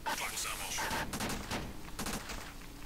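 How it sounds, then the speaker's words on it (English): Rapid gunfire from the SAS: Zombie Assault flash game, a dense run of repeated shots and bursts that stays loud throughout, layered with other game sounds. "Now you can just gun them down like it's nothing."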